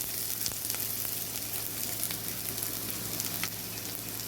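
Onion, ginger and chillies fry in two spoons of coconut oil with mustard seeds and dried red chillies, giving a steady close sizzle with faint crackles throughout.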